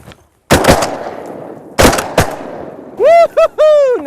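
Shotguns firing during a duck hunt in Arkansas, several loud, close blasts in quick succession, a pair near the start and another pair midway, each echoing off, followed by whooping shouts.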